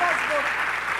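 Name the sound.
audience applause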